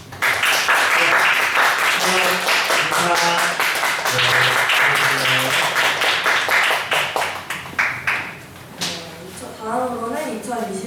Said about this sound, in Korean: 큰 박수로 좀 격려해 주시고 축하해 주시면